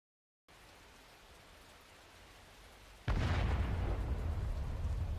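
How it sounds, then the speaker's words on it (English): Steady rain hisses alone for a few seconds before artillery shells from the video game Arknights burst in, a heavy rumbling explosion that swells loud and stays roaring over the downpour. "Countless shells come down with the rain, exploding the moment they contact the ground and walls."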